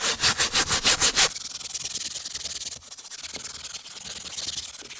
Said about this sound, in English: Rubbed it quite well with the brush.